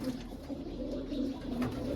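Several domestic pigeons of mixed fancy breeds coo continuously at close range, low soft burbling calls overlapping in a steady murmur with no talk.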